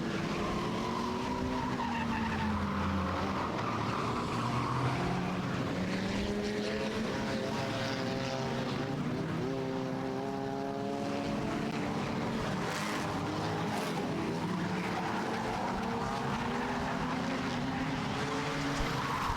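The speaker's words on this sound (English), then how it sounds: "Oh, spin around the front straightaway. Clark Griswold sideways in the 84." A 6-cylinder enduro race car spinning sideways on the front straightaway of a speedway, with long wavering tire squeals over loud, continuous engine roar and crowd noise, sustained throughout.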